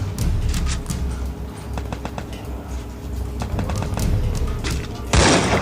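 Gunfire in the Free Fire mobile game, rapid clusters of sharp shots over a constant noisy game backdrop, ending in a louder burst, with voices talking underneath.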